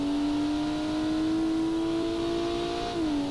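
An Audi RS6's engine in the BeamNG driving game holds a high, steady drone at fixed revs, as if stuck on the rev limiter, then dips slightly near the end, with no talk.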